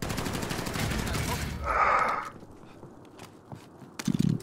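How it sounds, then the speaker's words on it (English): Rapid gunfire in Call of Duty: Modern Warfare, a dense loud burst of shots for the first second and a half, then quieter scattered pops and footsteps-like thuds. "I'm getting shot at from across the map"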